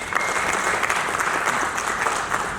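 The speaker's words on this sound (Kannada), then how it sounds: "ಒಂದು ಜೋರಾಗಿ ಚಪ್ಪಾಳೆ" Loud applause from the audience at a film press meet, a dense and steady burst of clapping filling the room for a couple of seconds, close and full, with a faint voice underneath.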